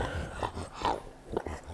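A pug makes a short run of soft, close dog vocalizations, a few low grumbling whimpers and yips over about two seconds.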